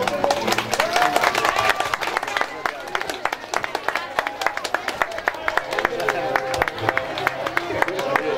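Crowd clapping at a Srimad Bhagavat Mahapuran recitation gathering, sustained irregular applause from many people with a murmur of voices and chatter underneath.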